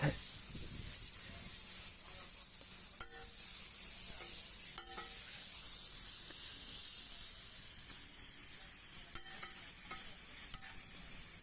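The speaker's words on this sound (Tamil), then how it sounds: "ஓகே, நல்லா ஃப்ரை ஆகுது குடல்." Goat intestine frying with plenty of ground pepper in a pan, a steady close hiss of sizzling with occasional light stirring taps and clinks, continuous throughout and without speech.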